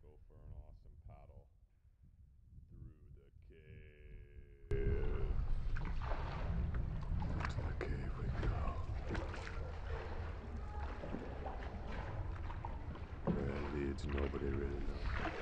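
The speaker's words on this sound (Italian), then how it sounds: "Fare una fantastica pagaia attraverso la grotta" A rowboat paddles through a dark cave in Laos. After a quiet start, a steady wash of splashing and lapping water rises and carries on, fairly close and continuous.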